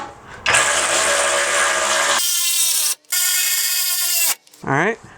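A power tool whines loudly and close while tightening 17 mm skid plate bolts on a 2016-2020 Toyota Tacoma TRD Off-Road 4x4, in several sustained runs with brief pauses between them.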